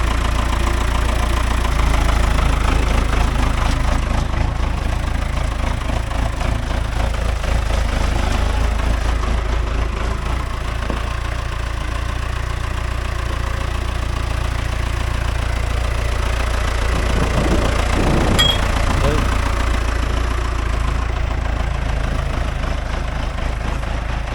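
An old tractor engine idles nearby in a steady, low, knocking chug that continues unbroken with no voices.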